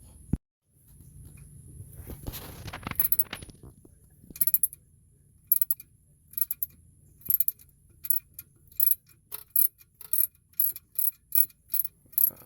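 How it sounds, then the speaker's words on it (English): A ratchet on a long extension loosens the drain plug of a Jeep SRT8 transfer case. Some scraping comes first, then a steady run of a dozen or so crisp, evenly spaced clicks, close and fairly quiet. "So about to go ahead and get this loose, get the bottom one loose, drain it, and refill it."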